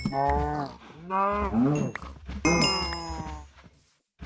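Cows mooing in a Minecraft-style survival game, several long drawn-out moos in a row, loud and close with brief gaps between calls and no talking.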